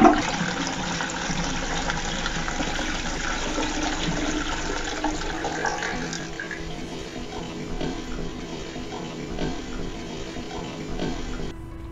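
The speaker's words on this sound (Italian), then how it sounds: "Il nostro scarico non si ferma più e scarica sempre, continuamente acqua." A faulty, clogged toilet cistern runs on without stopping, a continuous close hiss and gurgle of flowing water that is louder at first and then settles to a steady trickling rush, with no voices.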